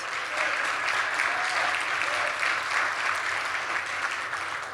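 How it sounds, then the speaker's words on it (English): A room full of meeting attendees applauds a company sponsor with steady, dense clapping that holds at an even level for several seconds. "let's give him a round of applause"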